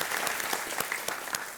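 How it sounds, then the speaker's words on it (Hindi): Studio audience and family of a quiz show contestant clap together in a dense burst of applause, fairly faint and continuous with a few sharper claps standing out. "बहुत जोरों से ताली बजाई आपके परिवार ने"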